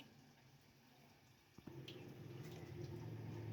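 Water is poured into a cooking pot to boil rice, starting midway as a faint, steady stream after a brief clink, close by and without talk.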